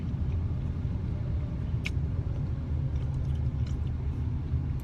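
A worn-out old car with its engine light on rumbles steadily from inside the cabin while driving, a loud continuous low drone with no talking.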